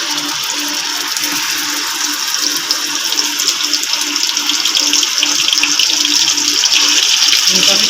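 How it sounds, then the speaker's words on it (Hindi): Potato kofta fry in ghee in a pan with a steady, close, bright sizzling hiss and a faint repeating low tick underneath, continuous and slightly building, with no talking. "अब उसी पैन में हमने लिया है घी, अब उसमें हम करेंगे कोफ्तों को फ्राई।"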